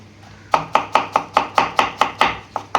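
An onion being sliced thinly with a knife on a board for onion dosa: about ten crisp, evenly spaced chops in quick rhythm, close and clear with no talking.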